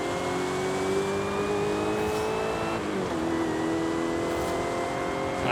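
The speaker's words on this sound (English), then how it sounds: "Just listen to that supercharger whine." A 2005 Ford GT's engine drones steadily in Forza Horizon 5, with a high, sustained supercharger whine riding over it, loud and continuous throughout, with no talking.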